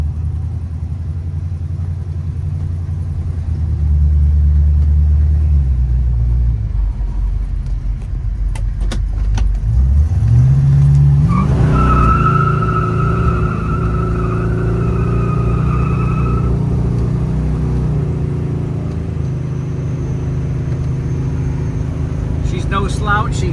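A 1972 Oldsmobile Hurst with a 455 big-block V8 on a test drive, its deep engine rumble steady and loud inside the cabin, rising as it accelerates partway through, with a tonal whine and brief rattles over the drone.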